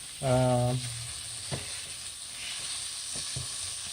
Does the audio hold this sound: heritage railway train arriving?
no